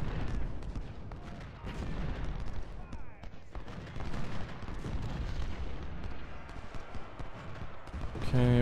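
Artillery and massed gunfire from a Civil War battle in the Ultimate General: Civil War strategy game, a dense continuous rumble of booms and volleys throughout, with faint game music or tones near the end.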